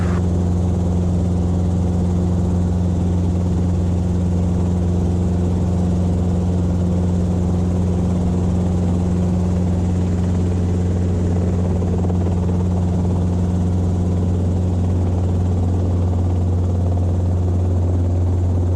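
Robinson R22 helicopter in flight, its engine and rotor making a loud, constant droning hum with steady low tones throughout, heard from inside the cabin with no talk.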